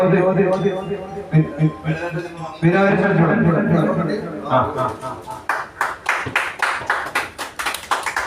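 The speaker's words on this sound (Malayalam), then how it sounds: "എല്ലാവരും കൈയടിക്കുക" Group applause on a trader association's outing, starting after an announcer's loudspeaker talk and then breaking into a rhythmic, uneven run of close hand claps.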